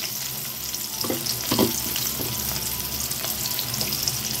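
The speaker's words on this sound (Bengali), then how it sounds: "এখন আলুটাকেও বেশ একটু লাল করে আমি ভেজে নেব।" Potatoes sizzle and fry in a pan for a Bengali kochur ghonto, a steady close crackle with a few louder spits and stirring scrapes, no voices.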